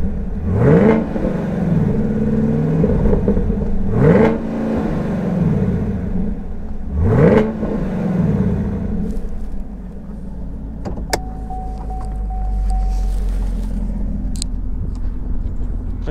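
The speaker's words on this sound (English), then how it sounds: "And I will let you hear that exhaust as well." A 2018 Cadillac CTS-V Championship Edition with a supercharged aluminum LT4 V8 barks through three sharp, loud exhaust revs spaced a few seconds apart, each falling back to a rumbling idle, followed by a brief mechanical whir and clicks.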